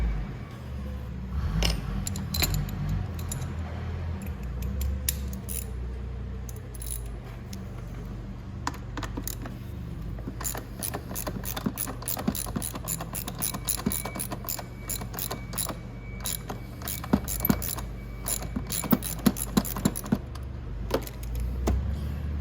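A ratchet wrench removes a bolt from under a Venom 1300W E-Madix electric ATV. Metallic clicking comes in bursts, then speeds into rapid, close ratcheting with clinks of tools on metal over a low background hum. No one talks.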